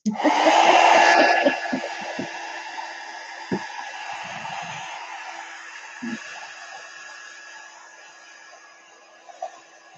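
A hair dryer blows steadily across artwork worked in pan pastel over Magicals, loudest in the first second or two and then settling into a continuous whir, with a few faint knocks and handling sounds beneath it.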